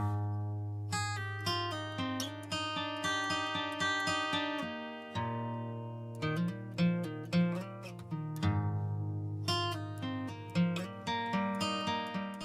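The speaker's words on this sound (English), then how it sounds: "These simple banjo melodies and earthy tones are what grounds you to reality" Gentle banjo folk music from Timber Hearth in Outer Wilds plucks simple repeating melodies over a low sustained drone, quiet and alone with no voices, with brief pauses between phrases.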